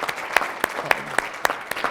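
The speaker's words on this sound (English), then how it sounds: "We should give an extra round of applause to Vanessa Fenley and her leadership" Sparse applause from a small audience at a community meeting on homelessness, a handful of distinct claps spaced across a couple of seconds rather than a full ovation.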